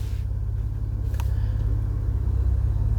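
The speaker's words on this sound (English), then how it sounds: "It's not the throaty V8 sound, but it still has a good racy sound" Cadillac ATS-V engine heard from inside while driving, a steady low rumble holding even and continuous throughout with no talk over it.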